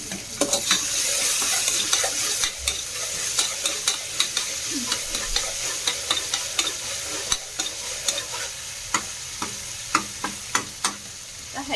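Peas and carrots tossed into a hot oiled pan for vegetable pulao, a steady sizzle of frying with repeated scraping and stirring clicks of a spoon against the pan.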